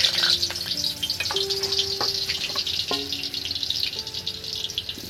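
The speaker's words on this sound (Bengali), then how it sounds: "এবার দেখুন তেল তেতে গেছে, আর এই যে কাটা আলুগুলো এবার আমি তেলের মধ্যে ধীরে ধীরে দিতে থাকবো।" Cut potatoes slid gradually into hot oil in an iron kadai, giving a steady close-up sizzle and hiss with faint clinks and taps throughout.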